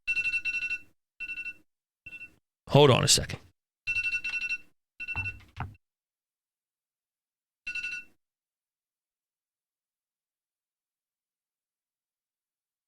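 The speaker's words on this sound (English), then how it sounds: "Oh, that was my alarm." Phone alarm ringing in short repeated bursts of bright electronic tones, loud and close, with a brief burst of speech midway; the ringing stops, one last burst sounds near eight seconds, then silence.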